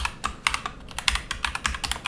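Fast, crisp keystrokes on a computer keyboard, about a dozen quick clicks in an uneven burst while a short name is entered, close and fairly quiet with no talking.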